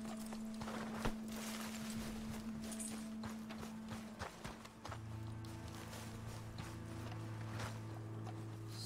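Hooves clip-clop as a horse walks in Red Dead Redemption 2 on a hard surface, slightly irregular, over a low humming background tone.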